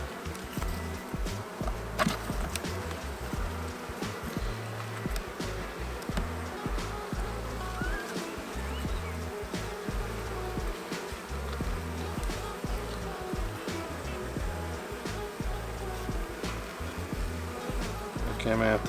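Honey bees buzz steadily throughout a Minnesota hive inspection during a nectar flow, a dense continuous hum with many individual insects passing close to the microphone, with no voices over it.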